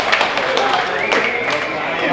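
An audience claps at a pálinka award ceremony, producing a moderately loud, steady patter of hands throughout with a voice over it.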